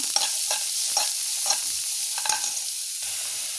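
Onion, garlic and chili frying with cumin in hot oil in a pan, a steady close sizzle with periodic scraping stirs about every half second, no voices.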